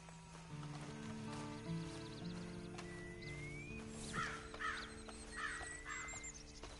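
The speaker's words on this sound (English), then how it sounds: "Then you better get on this horse." Horse hooves clip-clop in a video game alongside steady ambient tones and crow caws, faint and mixed into the game's background sound.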